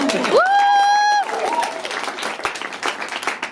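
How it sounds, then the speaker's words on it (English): A studio audience at a Wicked cast event in London claps and cheers, with a sustained high whistle or whoop rising over dense, close applause at the start before the clapping thins and continues steadily. "You can applaud that if you like."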